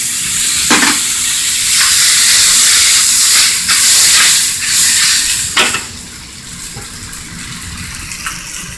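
Cooking wine splashed into a hot wok while making beef chow fun, a loud hissing steam burst with stirring scrapes that fades down to a quieter sizzle toward the end.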